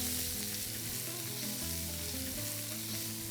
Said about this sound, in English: Now I'm going to add prawns to my pan, okay, and ensure at this point that the pan is on high flame